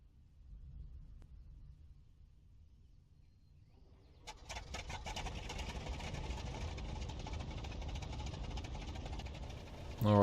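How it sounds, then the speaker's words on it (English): Bristol Fighter biplane engine in a flight simulator game: quiet low rumble at first, then about four seconds in a louder, rough, throbbing idle takes over and holds steady, ending with a brief burst. "Alright, so the engine's now started."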